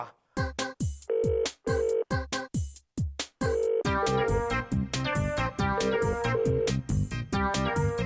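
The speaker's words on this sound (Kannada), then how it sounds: "ಫೋನ್ ರಿಂಗ್ ಆಗ್ತಾ ಇದೆ ಕಣೋ" A melodic phone ringtone plays loudly in short bursts, then continues as a fuller, unbroken tune.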